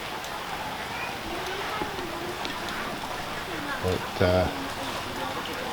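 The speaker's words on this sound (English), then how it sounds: "the rain is persisting down." Persistent rain falls outdoors beside a shed under construction, a steady soft hiss of drops in the background, with someone speaking over it and a brief knock or clatter partway through.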